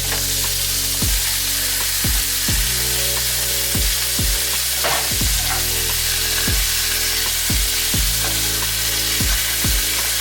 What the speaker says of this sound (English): we're cooking up the meat to give it a chance to brown itself down, and we're also gonna put the onions in